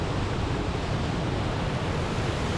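Southford Falls waterfall in Southbury, Connecticut, swollen after heavy rain, gives a loud, steady broadband roar of rushing water that fills the whole stretch without a break.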